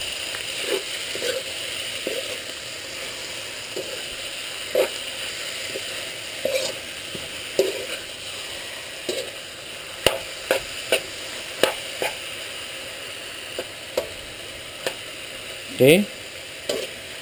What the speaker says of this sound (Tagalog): lagay na natin yung chicken breast natin. Then let's saute that.